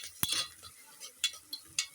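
Onions and green chillies frying in a pan for a West Godavari dish, quiet sizzling beneath a spoon or spatula stirring and clinking against the pan in several sharp, irregular taps.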